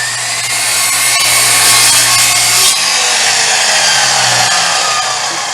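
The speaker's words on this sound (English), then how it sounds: "I take them over to the miter saw and chop them down to 24 inches in length" A miter saw chops wood boards down to length, a loud continuous whining cut with a harsh rasping bite that eases off partway through as the blade spins on alone.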